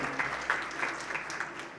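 Audience applause at a Gujarati speaking event greets a guest welcomed from the stage, a steady, moderately loud wash of clapping that holds through the clip without a voice over it.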